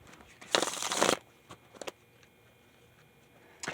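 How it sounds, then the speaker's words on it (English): Oversized cards riffled in a brief, close crinkling burst of shuffling in a quiet room, followed by a few scattered soft taps and flicks. "These cards are a little bit bigger to shuffle."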